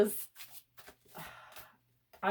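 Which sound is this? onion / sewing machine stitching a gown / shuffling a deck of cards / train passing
shuffling a deck of cards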